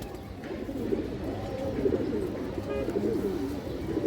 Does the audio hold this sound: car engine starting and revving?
no